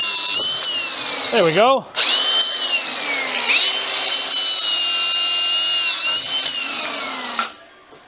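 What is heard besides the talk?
grinder cutting metal on car's rear axle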